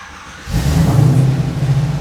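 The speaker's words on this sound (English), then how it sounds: "car fires right up. The Borla exhaust sounds amazing on this car." A car engine with a Borla exhaust fires up after a brief quiet moment, settling into a loud, deep, steady rumbling idle close by.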